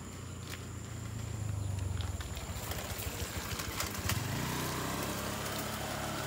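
A motorcycle engine passes on a Philippine street, a low rumbling, chugging motor that swells and fades amid steady outdoor traffic and street noise.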